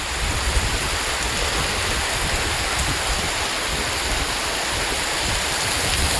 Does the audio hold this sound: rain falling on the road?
yes